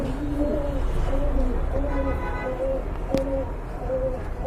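Repeated low pigeon coos, soft and throaty, one after another at a steady pace over a constant background hum.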